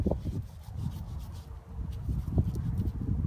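A dirty 7-iron golf club is scrubbed with the abrasive side of a cleaning wipe, making a steady, close scratchy rubbing with small uneven strokes and no voices.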